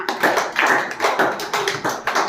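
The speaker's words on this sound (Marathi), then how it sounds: "मान्यासाठी जोरात टाळ्या" Loud, close applause from a small group, with fast, repeated bursts of clapping for about two seconds and no talk over it.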